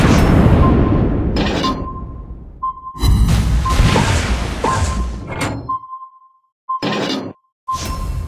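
Explosions and heavy thuds from torpedo hits in a naval warfare video game, several booming impacts with whooshes and clanks in quick succession, separated by brief silent gaps and steady tonal beeps.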